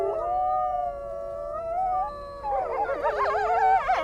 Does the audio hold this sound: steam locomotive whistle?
no